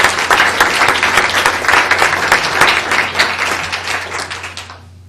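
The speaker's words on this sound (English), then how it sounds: "Let's give him a round of applause as he walks in." Audience applause at a school board meeting as a student walks in, a dense, steady burst of many hands clapping close by that tapers off toward the end.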